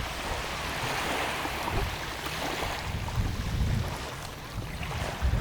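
Steady wash of ocean waves rolling onto a shoreline, broad and continuous with gentle swells of loudness, some wind noise across the microphone, no voices.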